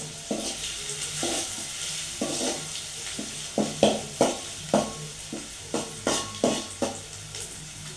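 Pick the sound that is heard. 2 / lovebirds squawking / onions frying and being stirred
onions frying and being stirred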